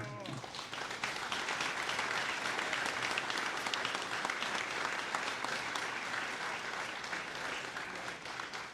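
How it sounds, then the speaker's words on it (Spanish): Sustained applause from a large audience at a Spanish-language novel launch, steady and dense clapping that continues without a break for several seconds. "Este es el hombre, por favor, levántese para que lo aplaudan."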